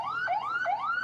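A fire engine siren arrives at a national disaster management drill, its wail sweeping upward in quick, repeating rising cycles, clear and fairly close with no voices.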